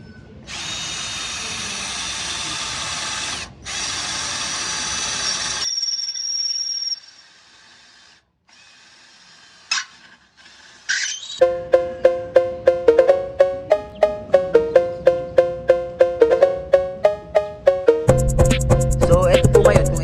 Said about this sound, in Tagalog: Itatry po natin kung kaya niya magbutas ng angle bar.